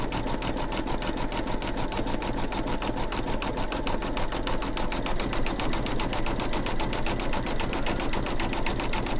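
An embroidery machine stitches a snowman mug rug design, working around the hat and its little brim, with a steady, rapid mechanical needle rhythm that runs continuously at close range.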